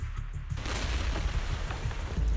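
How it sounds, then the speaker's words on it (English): Several explosions in Zenless Zone Zero rumble as a continuous low, booming roar, dense and fairly loud with no pauses across the stretch. "As she finishes her words, several explosions erupt,"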